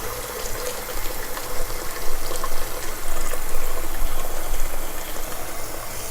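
Tap water running steadily into a pot to cover a can standing upright for a wafers-with-toffee recipe, a continuous close splashing rush with no talk.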